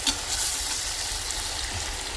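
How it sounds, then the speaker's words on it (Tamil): Tomatoes sauté in a pan for a dried-fish curry, giving a brief, steady crackling sizzle close by, with a faint stir near the start. "தக்காளி நல்லா வதங்கட்டும்."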